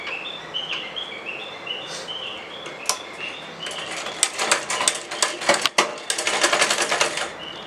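A home sewing machine stitching designer blouse patches: light chirping sounds early on, then loud, close bursts of rapid mechanical stitching in the second half.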